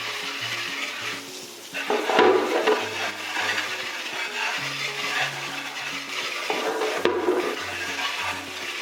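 Water spray from a light hose gun rinsing mold off the parts of a 2023 Samsung Windfree Classic stand air conditioner during self-cleaning, a steady close wash of splashing water with low tonal hum underneath.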